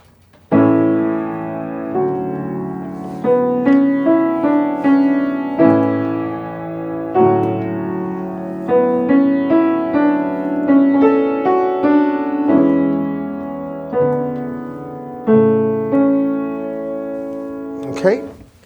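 Piano plays the trio melody from Chopin's second scherzo, a flowing line of struck chords and sustained notes in steady phrases, clear and alone for nearly twenty seconds.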